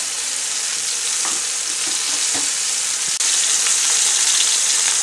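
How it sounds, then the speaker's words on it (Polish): Steady crackling sizzle of pork loin slices frying in a hot pan over high gas, loud and continuous, with a few faint scrapes and clinks partway through. "I smażymy."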